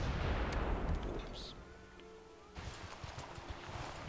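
City bombard artillery fire in Civilization 5 lands as a heavy booming burst followed by scattered rumbling impacts and pops, game sound effects at moderate level.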